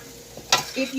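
Okra frying in a pan, a short crackling sizzle that flares up midway along with a stirring scrape, close and fairly quiet.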